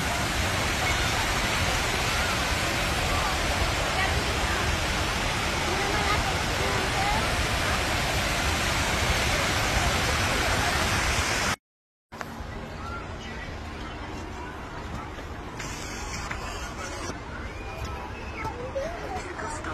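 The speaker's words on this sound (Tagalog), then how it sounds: "napakalaki at napakataas na waterfalls" A large, very tall waterfall in Fujairah roars as a loud, steady broadband rush of falling water, continuous for most of the span before a brief cut. It then gives way to a quieter, thinner water wash with faint voices in the background.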